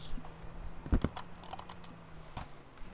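Keys clacking on a computer keyboard in a gaming setup, a few quick sharp taps clustered together and a single later press over a low steady hum.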